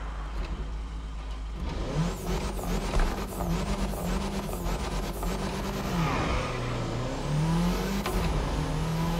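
A tuned Golf GTI with a rotary engine in the racing game The Crew revs and accelerates through a roundabout, its engine note climbing and falling in repeated sweeps, loud and continuous with no talk.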